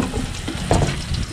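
Garlic frying in a pan gives a steady close sizzle, with brief stirring scrapes and a louder crackle partway through; no one speaks.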